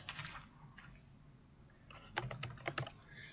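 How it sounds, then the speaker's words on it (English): Someone types on a computer keyboard in a quiet room, a faint clatter of a few keys at first and then a quick cluster of sharper keystrokes. "So I'm going to go ahead and type totals"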